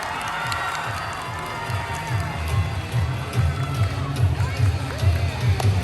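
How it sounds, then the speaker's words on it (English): A large crowd cheers and shouts continuously in a school gymnasium, with rhythmic thumping footsteps or stomping underneath and a loud indoor echo that swells toward the end. "Let's make some noise for Colin Ackerman."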